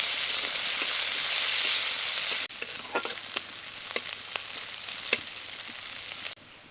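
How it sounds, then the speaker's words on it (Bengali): Chopped onion fries in a pan toward light brown, giving a continuous sizzle broken by scattered clicks and scrapes of a spoon stirring, close up; the sizzle drops abruptly partway through and again at the end. "পেঁয়াজটাকে হালকা বাদামি করে ভেজে নেব"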